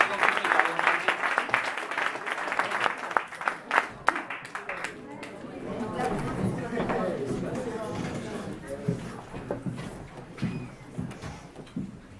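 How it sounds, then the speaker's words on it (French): An audience at a slam poetry final claps steadily for several seconds, the applause fading as a voice begins speaking over the dying claps. "Un applaudissement."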